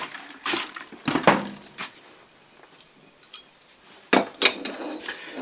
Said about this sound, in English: So what we're going to do now is tighten up these nuts